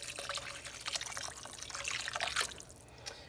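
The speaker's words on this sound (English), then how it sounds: "now we're gonna pour some water in" Water pours and trickles into a cooking pot for stove-top beef short ribs, a soft, steady splashing stream lasting a few seconds before tapering off, fairly quiet and close with no talk.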